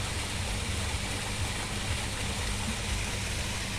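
A waterfall's rushing water makes a steady, broad hiss that stays even and fairly loud throughout, with no voices over it.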